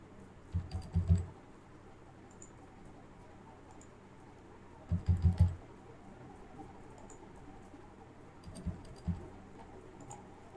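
Quiz question typed on a computer keyboard: three short, close bursts of rapid key clicks separated by quiet pauses, faint and dry, with no voices.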